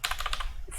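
Quick, close computer-keyboard typing, a brief burst of rapid key clicks entering a file name, with no voices.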